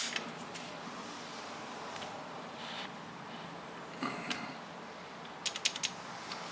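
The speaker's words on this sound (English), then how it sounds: "We're just gonna dry fire." Dry fire of an open-class race pistol: a couple of crisp mechanical trigger clicks stand out near the end of a quiet stretch with faint handling creaks and small metallic ticks, close and fairly soft.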